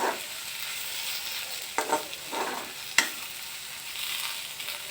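Potatoes sizzle and fry in hot oil while being stirred for an Assamese fish curry, a steady close crackle broken by a few sharp scraping stirs of the spoon against the pan, with no voices.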